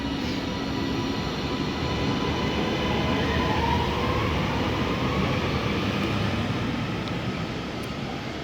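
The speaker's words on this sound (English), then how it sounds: "So that departs off to Manchester Airport." A passenger train, unit 397010 bound for Manchester Airport, rumbles steadily as it pulls away from Oxenholme station, a continuous low roar with a faint whine, fairly close and sustained throughout.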